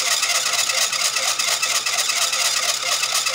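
An Epson L110 printer with a faulty roll gear turning for a long time while the head does not move, giving a steady, close whirring mechanical hum without pause.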